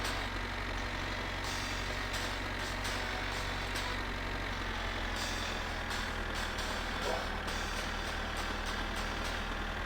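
A tractor engine in the video game My Winter Car runs steadily and loudly throughout, a continuous droning rumble with faint higher clatter and no talk.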